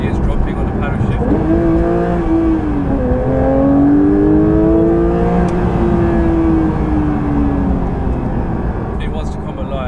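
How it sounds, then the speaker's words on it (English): Paddle-shift gear changes come through in a Porsche 992 GT3 on the move, the engine note sweeping up and dropping as each gear engages, loud and near inside the car. "You can probably hear the gears dropping on the paddle shift."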